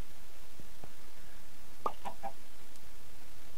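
Chickens in the Minecraft video game give a few short, faint clucks close together against a quiet background hiss.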